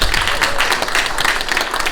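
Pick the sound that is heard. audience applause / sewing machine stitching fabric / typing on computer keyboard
audience applause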